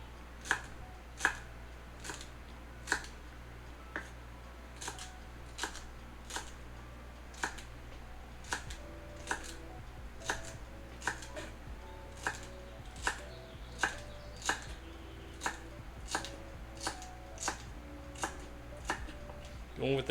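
A knife chops celery into tiny pieces on a board, with sharp, evenly spaced cuts landing about once a second over a steady low hum.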